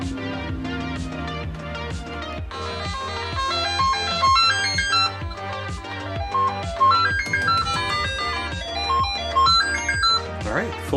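Commodore 64 SID chip playing its sound test tune from a dead test cartridge, a bright chiptune sequence of stepping square-wave notes and percussive blips running steadily throughout at moderate volume, with no talking.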